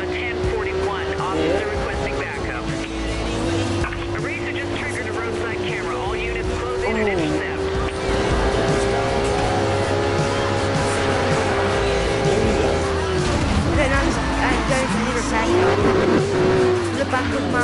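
Supercars including a Ferrari and a Lamborghini tearing along in a Need for Speed Rivals police pursuit, with sustained high-revving engine whine and shifting pitch over a constant roar, loud and close throughout.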